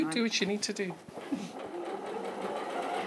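A sewing machine runs steadily along a 1.5 cm seam on a dress, its hum taking over after a woman finishes a short remark at the start.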